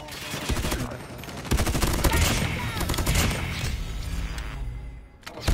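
Rapid automatic gunfire in Call of Duty Mobile, loud close bursts of shots hammering for several seconds with thuds and impacts, briefly easing near the end, while a voice is heard under the shooting.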